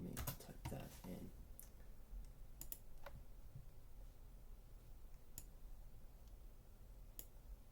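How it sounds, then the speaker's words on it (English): Keys on a computer keyboard clatter in a fast burst at first, then give way to sparse, scattered single keystrokes over a faint background hiss. "Let me type that in."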